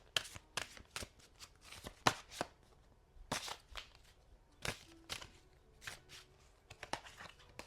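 A deck of chakra oracle cards being shuffled by hand, with repeated crisp riffling bursts at an irregular rhythm, close and fairly quiet, with no talking.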